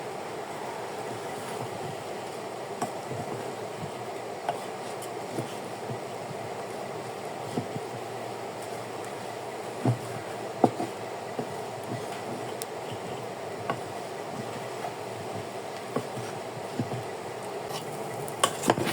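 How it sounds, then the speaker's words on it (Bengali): Rice is stir-fried in oil in a pot for khichuri, giving a continuous low sizzle with frequent light scraping and clinks from a spoon against the pot, close by and steady throughout. "এখন আমি যে চালটা ভালো মতো কষাই নেব।"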